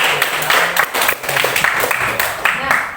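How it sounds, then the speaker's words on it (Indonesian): Classroom applause for a student during a history lesson, a steady wash of clapping throughout with overlapping voices and chatter audible over it. "Ya, kita kasih juga tepuk tangan."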